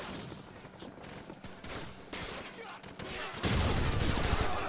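Gunfire and a grenade from the video game Call of Duty 4: Modern Warfare: rapid bursts of shots that build to a denser, louder barrage near the end, heard fairly faintly.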